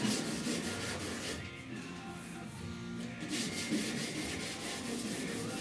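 A sanding block scrubs primer-surfacer on the rusty, pitted roof of a 1969 Chevrolet C10 pickup, a steady close-up rasp of back-and-forth strokes running without pause and without any talking.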